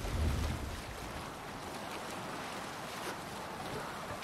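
A boat under sail glides along a river in Assassin's Creed Valhalla, with continuous water wash and wind rushing past, a low thump at the start and a steady hiss throughout, and no talk.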